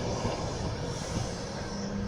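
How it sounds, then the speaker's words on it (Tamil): A Pacific National goods train rolls past in an Australian town, a steady low rumble of wagons on rail at moderate distance, continuous and even for the whole moment. "Pacific national goods train"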